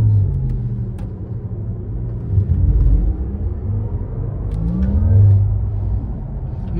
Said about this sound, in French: c'est le bruit de la voiture